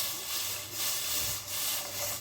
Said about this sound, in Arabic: هنحط شويه ميه صغيرين، قيمه كوبايه بس بتغلي، هنزل عليها بشويه لبن